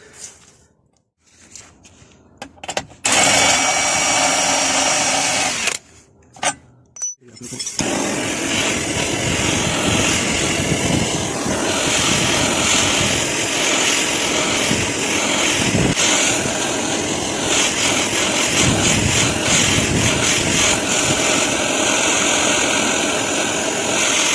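A blowtorch flame roars steadily as it burns out the rubber trailing arm bush on a VW Touran, the bolt already removed. After a few brief bursts and pauses, a loud, continuous close-up hiss and roar holds for about twenty seconds.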